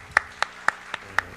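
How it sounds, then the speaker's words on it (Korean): A few sharp, evenly spaced claps, about four per second, ring out in a church hall as a prayer meeting welcomes a guest preacher. They are fairly quiet and sound more like a handful of hands than a full crowd. "우리 박수로 환영하겠습니다"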